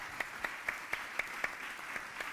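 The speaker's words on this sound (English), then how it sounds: "Big round of applause." A slow, even clap repeating about every quarter second from an audience at a healthcare conference summit, thin and rhythmic rather than a full ovation, with no voices.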